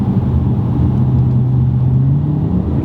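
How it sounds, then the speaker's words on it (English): An Audi B8 RS5 4.2L engine with a valved cat-back exhaust drones deeply inside the car, with a low tone that rises steadily as the automatic gearbox downshifts under throttle, loud and continuous with no talking. "If I give it some gas, it'll downshift."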